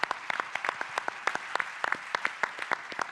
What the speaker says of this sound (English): Now I want you to give them a round of applause.